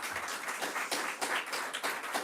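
Applause from an audience at the presentation of the 12th Leonicus Renaissance Festival in Lonigo, a light patter of scattered hand claps at moderate volume, with no voices over it.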